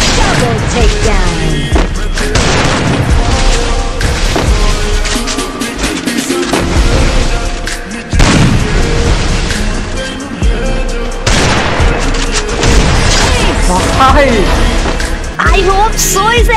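Rapid gunfire and booming blasts from a mobile battle royale shooter game fill the clip at loud, dense levels, mixed with game sounds and a voice talking over the action.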